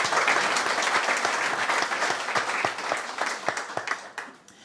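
Audience at a land trust's annual meeting applauds steadily, a dense wash of many hands clapping that thins toward the end with a few distinct claps standing out.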